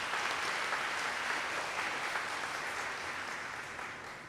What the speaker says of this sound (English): I think that truly deserves a round of applause